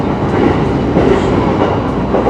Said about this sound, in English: This train is going to get us to Nikko.